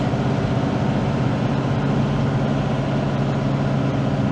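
Steady engine drone from inside a car with an automatic transmission, a low rumble holding fairly constant without a sharp rev, loud and continuous with no talking.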